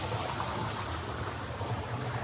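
Steady rushing water at the top of a waterfall, a continuous broadband roar that stays even and loud throughout with no voices.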